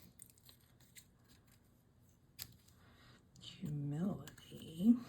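Scissors cut fabric lettering in a few quiet, close snips, followed by a person speaking briefly near the end.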